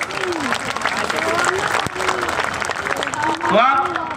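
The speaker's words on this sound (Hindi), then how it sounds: "जोरदार ताली से स्वागत करें।" A crowd at a fishermen's and backward-minority rights convention rally in Gandhi Maidan, Patna, bursts into sustained loud clapping, with cheers and voices rising over it and swelling again near the end.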